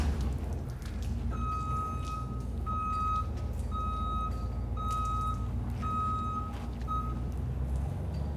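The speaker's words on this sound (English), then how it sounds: "Always got to be a truck backing up." A truck's reversing alarm beeps repeatedly in a steady rhythm over a loud, rumbling idling engine nearby.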